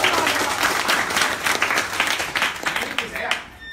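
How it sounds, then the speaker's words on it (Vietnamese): A large audience at a Vietnamese online-selling startup training event gives a big, sustained round of applause, dense clapping that swells and fades toward the end. "cho bạn Thúy một tràng pháo tay lớn"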